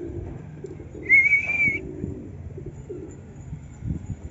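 Low, soft pigeon cooing murmurs in the background, with a brief high whistle-like tone briefly standing out near the start.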